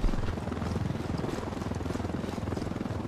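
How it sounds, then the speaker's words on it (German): Steady rhythmic rotor chop of a helicopter flying in Ghost Recon Wildlands, a continuous fast thumping beat that holds at an even, moderately loud level throughout with no talk over it. "Hier sind eindeutig zu viele Helikopter in dem Gebiet unterwegs."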